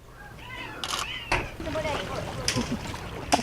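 Cats meow at a harbor in short, scattered calls over a soft wash of water and background noise.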